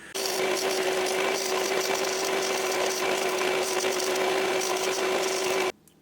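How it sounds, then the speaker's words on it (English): A sanding machine rounds small wooden parts, a loud, steady whirring grind with a constant tone that runs unbroken for several seconds, then cuts off abruptly. "first I'm going to use the sanding machine and my eye-hand coordination, hopefully, to get rounded bits"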